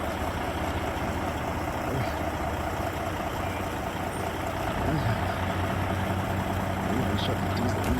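A Pierce pumper fire engine's diesel idles in a steady, dense, continuous rumble, loud and close, with faint voices beneath it.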